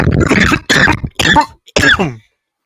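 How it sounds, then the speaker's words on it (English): Several close, harsh coughs and throat clears in bursts with short pauses between them, loud and near. "you keep coughing and breathing"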